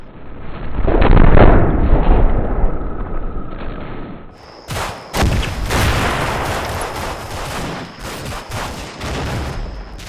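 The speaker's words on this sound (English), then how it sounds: "the lead squad exchanges grenades with the Italians, who have become unsuppressed." Grenade blasts and rifle fire from a Combat Mission: Fortress Italy battle against Italian troops, a dense rolling series of loud bursts and cracks, then sharper scattered reports over a steady high background tone, with no voices.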